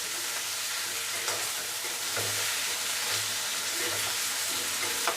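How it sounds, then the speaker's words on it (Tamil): Brinjal and drumstick pieces sizzle steadily in hot oil for a South Indian sambar, a continuous close frying hiss with a few soft stirring knocks. "அந்த காய்கறியும் நல்லா எண்ணெயிலேயே கொஞ்சம் வதங்கட்டும்."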